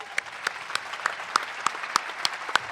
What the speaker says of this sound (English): Give you a little round of applause